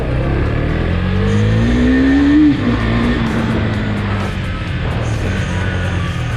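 Husqvarna Svartpilen 401 motorcycle accelerating hard, its engine note climbing steadily in pitch through a gear, then dropping at a shift and pulling again, loud and close throughout.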